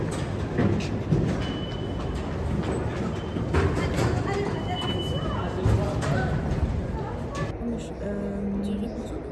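An RER commuter train in motion, a continuous rumble of rolling wheels and rattling carriage with occasional clicks and squeals, heard from inside the car.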